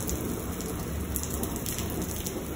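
Heavy nighttime thunderstorm in Lubbock, Texas: dense, loud, continuous rain pours down with a rumbling low undertone, no voices present.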